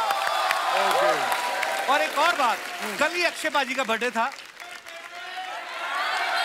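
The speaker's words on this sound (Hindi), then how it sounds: "जोरदार तालियां हो जाए" Studio audience applauding on a TV comedy talk show, a broad wash of clapping heard under a man's speech, which dominates with rising and falling spoken phrases throughout.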